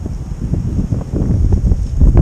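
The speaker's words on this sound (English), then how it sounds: "See, now the wind's picking up." Wind rising through Vermont big woods during late rifle season, a steady low rushing roar that swells toward the end, close and fairly loud with no talk.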